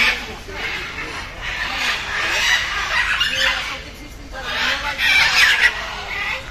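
Loud, noisy calls of birds, peacocks among them, at a bird sanctuary in Colombia, with repeated harsh squawks and clucking close by while someone talks over them.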